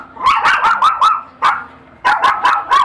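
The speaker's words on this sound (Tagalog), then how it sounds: "pag lumabas ako, tatahulan ako. Mahabang tahol" A dog barks in two bursts of short, sharp yaps, about five quick barks, a pause with one bark, then four more, loud and close with no talk over them.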